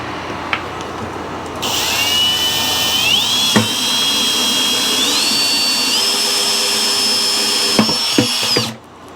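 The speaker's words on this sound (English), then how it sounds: "So what I did is I drilled it" A power drill whines steadily at high pitch for several seconds, the motor tone shifting as it bites into a plastic bucket lid, with a few sharp clicks and knocks.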